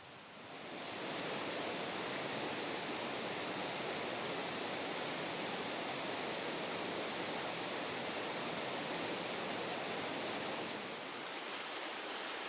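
A small brook cascades down into the River Dart on Dartmoor, a steady, full rushing of water that fades in and holds constant and close throughout with no voices.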